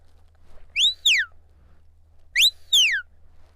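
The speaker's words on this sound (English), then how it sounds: "My lie down whistle sounds like this." A sheepdog lie-down command whistled twice, each a pair of sharp, bright two-note chirps, loud and close against a quiet background.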